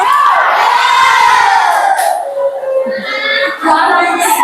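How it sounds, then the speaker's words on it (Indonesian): Children in a classroom chant a rhythmic spirit clap, their voices shouting together loudly and close with bursts of clapping, and an adult voice leads over them. "Sebelum ditutup kita tepuk semangat dulu."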